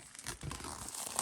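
Close crinkling and tearing of plastic wrap being cut with scissors, a quick rustling crunch over about a second.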